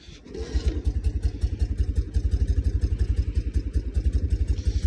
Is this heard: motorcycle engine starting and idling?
yes